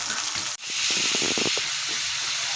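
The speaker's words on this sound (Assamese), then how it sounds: "অলপ হালধীয়া ৰঙচুৱা হোৱালৈকে ভাজি থাকিম" Onions sizzle in hot oil over high heat, a loud, even hiss that swells after a brief cut and crackles on steadily.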